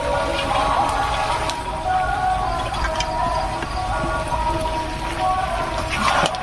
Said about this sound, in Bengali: দিয়ে দিতেছি জল